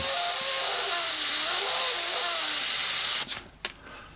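An airbrush sprays paint onto a skull artwork with a loud, steady close hiss that cuts off abruptly, followed by a couple of faint clicks and handling noises.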